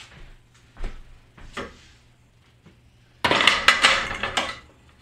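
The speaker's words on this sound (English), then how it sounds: "And stir the crumble." A spatula knocks and scrapes against a metal pan as Beyond Meat beefy crumble is stirred. Sparse light clinks come first, then a close burst of rapid clattering scrapes near the end.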